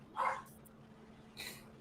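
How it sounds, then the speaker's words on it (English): A small dog, apparently a Pomeranian, barks over a phone line: two faint, thin yaps separated by a pause, heard alone through a muffled, narrow-band connection. "What kind of dog is that? Pomeranian. That sounds like a Pomeranian."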